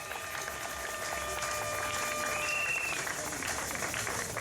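A church congregation applauds and acclaims during a worship celebration in Ngaba, producing a faint, continuous wash of clapping and cheering heard from a distance for the whole stretch.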